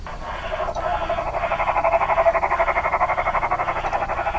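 Croaking, frog-like audio prompt from Freddy Fazbear's Pizzeria Simulator, a harsh warbling tone that swells in after a short pause and pulses in a steady rapid rhythm, loud and alone.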